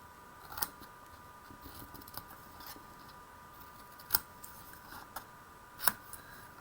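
Scissors cut small paper tabs for a Halloween treat box, a few sparse, quiet snips spaced irregularly over a faint steady background hum.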